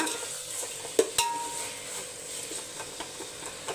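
A spoon stirs mint, tomatoes and green chilies in a pan, with a couple of sharp scrapes and clinks near the start over a soft, steady background sizzle.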